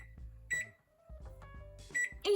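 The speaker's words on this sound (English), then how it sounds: "You're gonna go to your microwave and start a timer for" Electronic keypad beeps from a home kitchen microwave oven as a baking timer is set for muffins, a few short bright tones spaced apart with soft handling noise between them.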